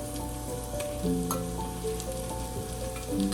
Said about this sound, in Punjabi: ਪਿਆਜ਼ ਸਾਡਾ ਭੁੱਜ ਗਿਆ ਜੀ ਹੁਣ ਅਸੀਂ ਇਹਦੇ ਵਿੱਚ ਲਸਣ ਤੇ ਅਦਰਕ ਪਾ ਦਵਾਂਗੇ